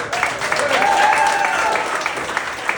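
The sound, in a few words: audience applause for comedians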